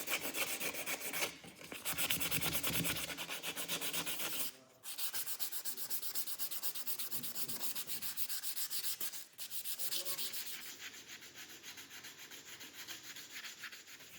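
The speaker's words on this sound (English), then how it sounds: "hand sanding the wood handle with fine grit sandpaper" Steady rasping of fine-grit sandpaper rubbed by hand over a forged knife's wooden handle with finger grooves, continuous back-and-forth strokes with brief pauses, close and fairly quiet.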